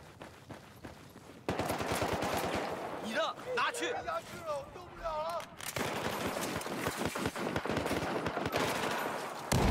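Gunfire in Battlefield 4 multiplayer, a dense loud stretch of rapid shots and bursts mixed with explosions and game noise, with someone talking over part of it.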